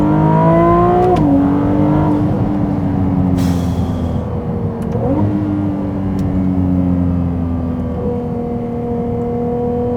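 A 2023 Ferrari 296 GTB's V6 roars loudly from inside the car in winter, with rising engine notes broken by quick downshift blips, then pulling hard under acceleration; no speech.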